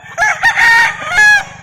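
A Kelso rooster on a backyard game farm in Compostela, Cebu crows loudly and close by, a long strained call broken into bursts, with a faint rhythmic low thumping underneath.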